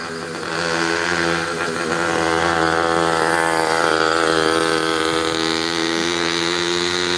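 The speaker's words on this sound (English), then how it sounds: "Here comes a scooter. Let's see if we can catch this guy go by behind me." A small motor scooter engine buzzes loudly and steadily nearby in a mobile home park, its droning pitch shifting slightly as the scooter passes.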